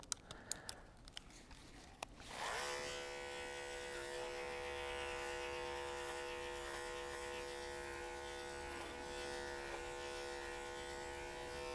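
Andis electric clippers buzz steadily at close range while trimming a market wether goat with a 2 guard, starting after a few brief clicks and holding a continuous hum throughout.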